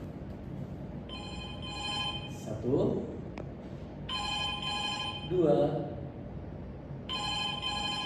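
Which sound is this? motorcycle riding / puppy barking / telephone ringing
telephone ringing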